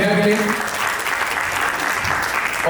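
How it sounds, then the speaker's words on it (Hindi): Audience applause rises as a steady wash of clapping from a crowd, with a voice briefly audible over it near the start and end. "जोरदार तालियां हो जाए इन सबके लिए"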